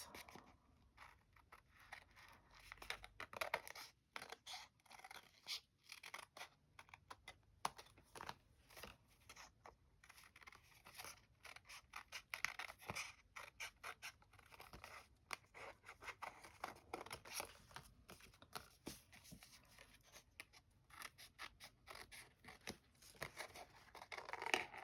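Scissors cut around vintage paper in a quiet, close run of irregular snips, scrapes and crinkles continuing throughout with short pauses between cuts, no talk.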